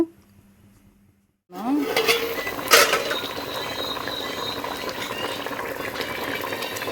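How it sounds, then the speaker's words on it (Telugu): Fish curry made with shilava fish bubbling in a pot, starting after a short quiet gap with a lid or utensil clatter, then a steady close simmering hiss and bubbling. "చక్కగా ఉడుకుతుంది కదా కర్రీ."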